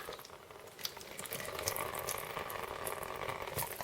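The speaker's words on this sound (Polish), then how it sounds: "Trzeba zlać wodę." Water drains off canned corn in a home kitchen, a steady, soft splashing stream that runs unbroken for several seconds with no talk.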